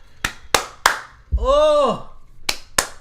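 Sharp, close hand claps, three in quick succession and then two more after a pause, with a voice exclaiming briefly in between.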